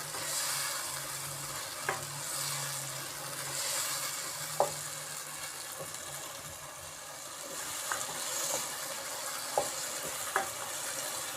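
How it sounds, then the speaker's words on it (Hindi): Spices and tomato frying in a pan for keema with peas and potato, with a quiet, continuous sizzle and occasional light spoon taps and scrapes at irregular intervals. "अब हम इन मसालों को टमाटर के इसके साथ अच्छी तरीके से भूनेंगे"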